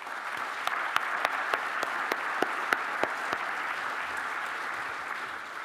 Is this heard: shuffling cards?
no